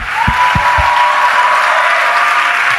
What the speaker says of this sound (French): Toute l'église l'acclame.